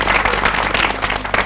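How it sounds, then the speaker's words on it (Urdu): A studio audience on a Pakistani morning talk show claps and cheers in dense, continuous applause, loud and close, filling the whole moment without pause. "تالیاں تو بجا لی."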